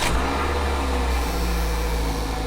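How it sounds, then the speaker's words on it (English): A car engine idles steadily with the check engine light on, a continuous low rumble with a faint whine above it, close and fairly loud from start to finish. "I've got the engine running."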